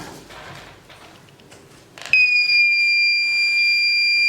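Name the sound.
alarm sounding from IoT alarm system demo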